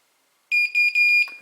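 An OTIS Gen2 elevator direction indicator, set off by its bottom micro switch, sounds three short, shrill electronic beeps in quick succession after a moment of silence, clear and close with nothing else around them.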